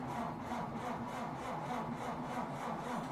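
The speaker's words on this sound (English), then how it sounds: "I can hear your engine starting from here" An aircraft engine in Microsoft Flight Simulator 2020 runs with a steady, even whirring drone that holds constant throughout, with no speech.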